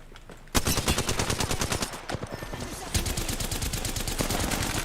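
Rapid automatic gunfire in the battle royale shooter Apex Legends, loud sustained bursts of fast, evenly spaced shots with brief gaps between strings.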